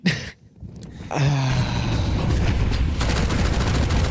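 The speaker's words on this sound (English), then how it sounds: "Mac 10 empties the mag." A MAC-10 sprays through a full magazine during a Counter-Strike 2 tournament match, a sustained rapid stream of close automatic fire following a brief quieter moment.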